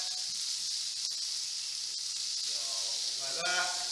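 Butter sizzles in a hot pan beside food that has just finished cooking, a steady close frying hiss that runs throughout and brightens into sharper crackles near the end.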